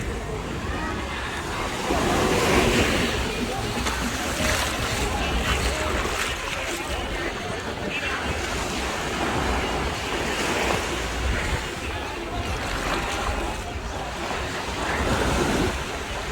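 Ocean waves at Peña Blanca beach in Aguadilla, Puerto Rico, a continuous broad roar of surf with gusts of wind buffeting the microphone, swelling slightly in places, close and steady, with no talk.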